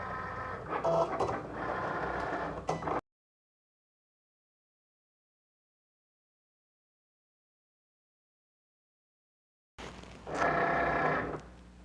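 A Cricut cutting machine works in fast mode, giving a steady mechanical whirring and buzzing of motor and carriage in two bursts separated by a long silence.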